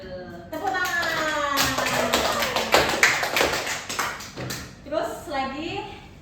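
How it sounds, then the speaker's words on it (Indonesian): A group in a school guidance counseling session claps hands in a few quick rhythmic bursts, mixed with voices talking and chanting around them. "Tepuk tangan"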